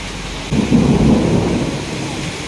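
Heavy rain pours down in a loud, continuous wash with a deep rumbling swell partway through, close and with no voices.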